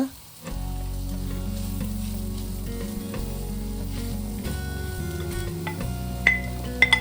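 Chicken and vegetables sizzle in a pan for enchiladas while being stirred, a steady frying hiss running throughout with occasional clinks near the end, all under a low sustained hum.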